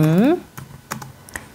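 A few sharp keystrokes click on a computer keyboard after a brief spoken syllable, sparse and close, with quiet gaps between taps.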